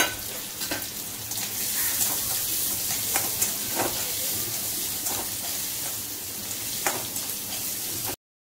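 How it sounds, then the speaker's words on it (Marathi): Two finely chopped onions fry in a pan until golden, giving a steady close sizzle dotted with occasional stirring clicks, then cutting off abruptly. "नंतर 2 मध्यम आकाराचे कांदे बारीक कापून घेतलेले आपण त्यामध्ये टाकून घेऊया आणि चांगले सोनेरी कलर येईपर्यंत त्याला आपण परतून घ्यायचे आहे"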